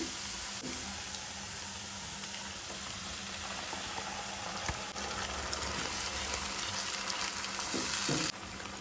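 Steady, close sizzling of Goan cafreal masala paste frying with onions in a pan for chicken cafreal, with a few soft stirring scrapes and a faint background hum.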